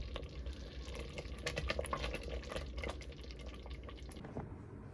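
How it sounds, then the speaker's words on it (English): Jellied cranberry sauce boiling in a pot while being stirred, with a steady low bubbling and sputtering texture, small pops and soft liquid clicks scattered through it, moderately faint and with no talking. "So just gonna keep stirring this and bring it to a boil for 3 minutes"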